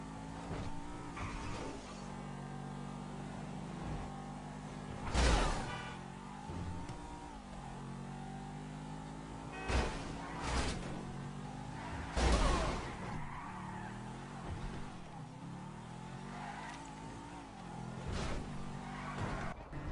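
Car driving fast in GTA 5, a sustained engine drone with steady harmonics and several louder bursts of tire noise or impacts as control slips, no talking.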